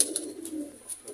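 A large Sialkoti pigeon hen that lays eggs gives a brief, soft, low coo close by, quiet and unaccompanied by voices.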